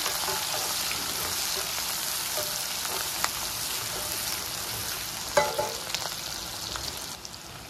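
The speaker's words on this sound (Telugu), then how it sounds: "మసాలా పెట్టేసుకుని ఇవి ఫ్రై చేసుకున్నాను వీటిని." Long green chillies coated in masala frying in oil in a pan: steady, dense sizzle throughout, close and fairly loud, with a couple of brief stirring scrapes near the end.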